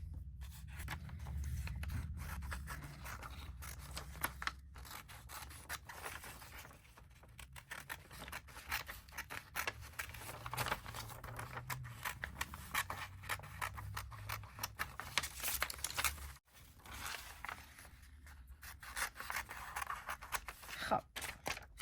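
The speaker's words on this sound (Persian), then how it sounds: "حالا با هم قیچیش کنیم." Scissors snip through a crocheted Irish crochet coat sleeve piece, a steady run of close, crisp cuts and scrapes lasting a long stretch, with faint low rumble beneath.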